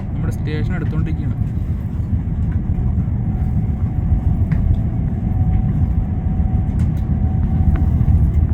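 A Shinkansen bullet train in Japan runs at night, a loud, steady low rumble heard from inside that carries through the whole stretch, with a short voice near the start.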